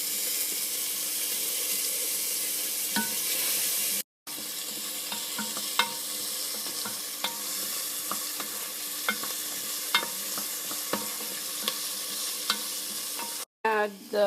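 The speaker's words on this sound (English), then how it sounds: "I will add in onions. Cook onions until they are" Onions frying in a pan, with a constant bright sizzle broken by repeated scrapes and clinks of stirring. The sound cuts out briefly twice.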